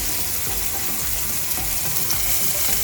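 Sliced ingredients sautéing for a homemade Jollibee-style spaghetti sauce, with a steady, close, dense sizzle and frying crackle and some stirring, continuous throughout with no talking.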